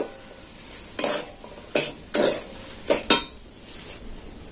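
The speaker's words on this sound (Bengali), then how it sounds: "খুব নাড়া চাড়া করে নেবো" A potato and pea filling is stirred in a pan with a metal spoon. Several distinct scraping and clinking strokes are spaced about a second apart over a soft background sizzle, with no one speaking.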